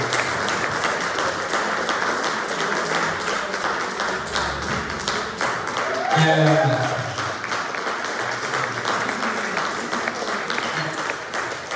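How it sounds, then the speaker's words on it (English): Applause from the audience at a student jazz band concert, a steady crowd clapping that holds for several seconds with a brief louder swell partway through, and some chatter underneath. "another round of applause for all the students"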